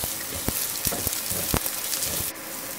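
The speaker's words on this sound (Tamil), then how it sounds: "ஆனியன் ஆட் பண்ணிக்கிட்டேன். இதை அப்படியே நல்லா வந்து வதக்கிக்கணும்" Onions sauté in oil for a dragon chicken dish, a close, steady frying hiss punctuated by rhythmic spatula taps and scrapes against the pan.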